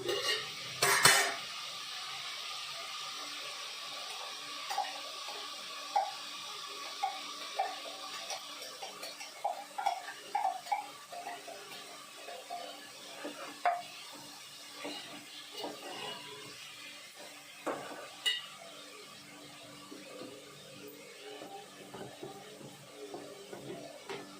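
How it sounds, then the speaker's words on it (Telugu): A spoon stirs spice and onion-green chilli paste into a pot of chicken curry, with quiet scraping and clinks against the pot, a soft background hiss and a few sharper taps scattered throughout. "ఉల్లిపాయలు, పచ్చిమిరపకాయలు, ఈ మిశ్రమాన్ని నేను చికెన్ కర్రీలో వేసేస్తున్నాను."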